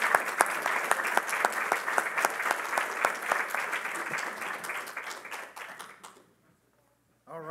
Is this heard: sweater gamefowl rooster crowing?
no